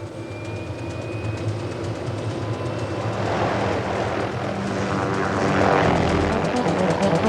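A light aircraft flying over the whitewater rapids of Devil's Canyon gives a steady propeller engine drone that swells louder toward the end as it passes nearer.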